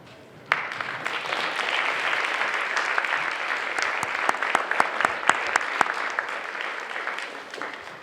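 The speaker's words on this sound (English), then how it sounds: "I'd like the new inductees to please stand and give your families" A crowd at a National Honor Society induction ceremony at Durfee High School bursts into sudden applause that swells into a sustained round, with sharper individual claps standing out near the listener.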